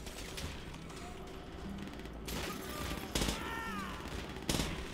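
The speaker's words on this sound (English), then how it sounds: "That feeling when you use submachine gun as a long range weapon." Bursts of submachine gun fire in Call of Duty: World at War, a World War II shooter, with several sharp volleys standing out over a steady battle din and faint chirping effects.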